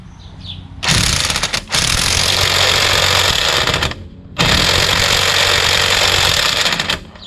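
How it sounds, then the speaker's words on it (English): Two long bursts of a pneumatic impact wrench fitted with an 11/16 socket hammering on the rear lug nuts of a Mercedes-Benz W212, loud and close, with a short pause between them. "Got my impact with a 11/16 socket."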